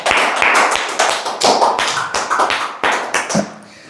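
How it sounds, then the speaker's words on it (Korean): A short burst of applause in a classroom lecture, several hands clapping in uneven rhythm for a few seconds before fading out, close and fairly loud. "박수"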